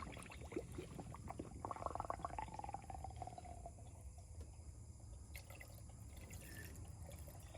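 Coolant pours into a Jeep engine's cooling system, a soft liquid gurgle and trickle running steadily under a low background hum, with no one talking.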